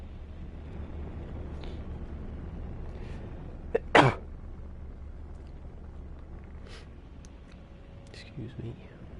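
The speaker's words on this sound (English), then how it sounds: "I'm going to sneeze, I think." A single sharp sneeze bursts out close to the microphone during a live game stream, standing above a steady low rumble of wind-like background noise, with a few faint clicks afterward.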